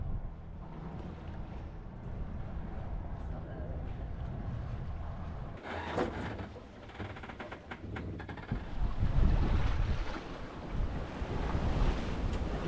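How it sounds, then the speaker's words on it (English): Wind roars across the microphone while a big sea swell surges and washes around a sailboat under sail in a 9-knot westerly off Orkney and Shetland; the gusts and water noise rise and fall unevenly and stay loud throughout. "We've got 9 knots of wind coming from the west. It's quite a big swell today."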